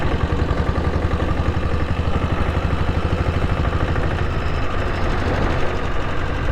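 A 6.5 HP diesel Bullet motorcycle engine runs steadily at idle, its dense, even thumping pulse continuous and close for the whole stretch with no voices over it.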